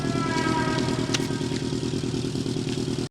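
A motorcycle engine drones steadily during a race scene in the 1989 film Black Rain, a close, sustained mid-pitched roar with a brief sharp clatter partway through.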